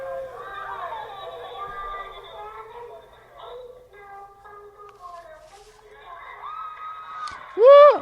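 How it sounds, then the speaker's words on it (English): Crowd cheering played back from an iPhone recording, with thin, distant-sounding whoops and chatter, building to a sharp, loud rising shriek near the end. "Oh, the worst is the cheering."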